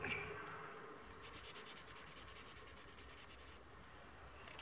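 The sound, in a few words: rubbing a thread bobbin with paper towel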